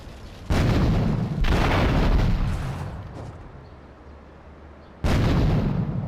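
Heavy booming grenade blasts in the video game GTA 3: one at about half a second, a second rumbling burst soon after that slowly fades, then another sudden loud explosion near the end.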